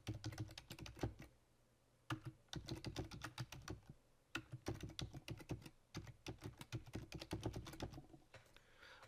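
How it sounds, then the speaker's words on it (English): Typing on a computer keyboard, quick clusters of crisp key clicks close up, broken by a few short pauses, quiet and alone. "In order to edit it, all I have to do is click on the note and then type."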